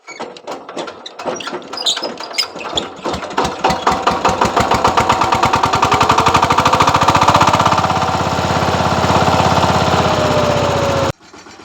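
A farm vehicle's diesel engine cranks with rapid knocking, catches, and settles into a loud, steady, chugging idle close by, with the pitch easing slightly before cutting off near the end.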